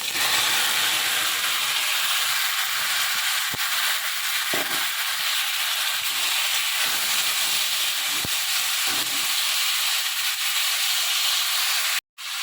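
Chopped tomatoes and dates hit a hot pan for tomato chutney, setting off a loud, steady sizzling hiss that fills nearly the whole stretch, with a few faint clicks, before cutting off abruptly at the end.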